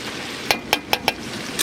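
Chicken curry frying in a pan as fried potatoes go in, with a steady sizzle under four quick, bright clinks from a spoon stirring against the pan.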